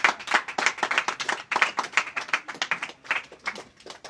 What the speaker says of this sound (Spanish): y para él pido un fuerte aplauso, para Valdor Bermeo Cabrera